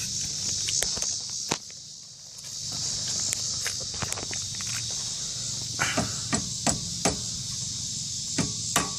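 Repeated metallic hammer strikes ring out at irregular intervals over a steady hiss, with a quicker cluster of blows toward the end, hammering on the tie rod end near the pitman arm of a 1997 Dodge Ram truck.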